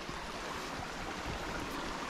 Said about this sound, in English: we're about to do our first official water crossing